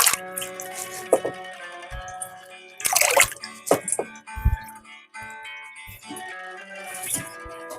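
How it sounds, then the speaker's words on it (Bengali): Washed water spinach left to drain in a basket: water trickles and drips in uneven splashes and patters, some bursts louder than others, close by and with no voices. "আমি এবারে একটা ঝুড়ির মধ্যে একটু রেখে জল ঝাড়া করে নিচ্ছি"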